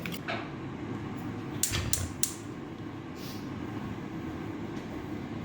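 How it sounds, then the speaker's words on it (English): A steady, low mechanical whir of an air fryer runs throughout, with a few faint clinks and creaks on top, with no talking. "the background noise is the air fryer"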